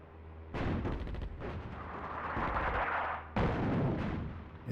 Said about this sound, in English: I think I've got one more artillery strike available.